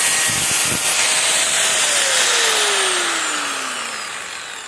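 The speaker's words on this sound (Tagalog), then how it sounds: "Kung pwede ba siya yung flap disc pang grinding sa kantuhan." An angle grinder spins a Bosch flap disc against the edge of a weld, a loud, steady high whine with brief low thumps of contact early on, the motor's pitch slowly falling as it winds down.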